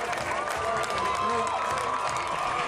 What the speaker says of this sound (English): To a loud uproar of the crowd